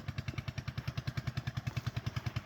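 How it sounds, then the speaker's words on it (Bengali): A shallow irrigation pump engine runs in a crop field, chugging in a fast, steady, even pulse at low volume. "সেই শ্যালো মেশিনের আওয়াজ খুব চিরচেনা পরিচিত একটি শব্দ"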